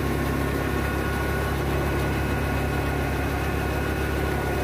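A New Holland 3630 tractor, a 50 horsepower machine, runs hard while driving a thresher cutter, its engine producing a loud, constant, close-up rumble with steady vibration and no talking.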